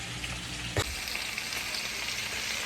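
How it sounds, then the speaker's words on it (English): Spinach sautés in oil with garlic, a steady, close frying sizzle with a single sharp clink or stir near the start. "I'm just gonna saute that in a little bit of oil and garlic"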